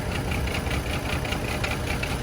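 Chevy Trailblazer engine idling with a cylinder misfire, a steady close rumble with an uneven, knocking pulse throughout.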